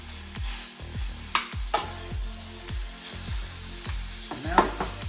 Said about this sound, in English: So now, those are sort of seared through.